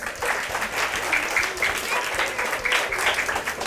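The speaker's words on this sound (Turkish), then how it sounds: "Alkışlıyoruz Halil'i." Primary schoolchildren in a classroom drama lesson clap together, a lively, uneven patter of small hands at close range that carries on steadily, with a few young voices calling out over it.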